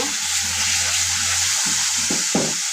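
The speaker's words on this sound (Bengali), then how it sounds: "এখন আমি এখানে তেলের মধ্যে একটু ভেজে নিলাম কাঁচা গন্ধটা দেওয়ার জন্য।" Steady oil sizzle and crackle from food frying in a pan, loud and continuous, with a few sharper spits near the end and no voices.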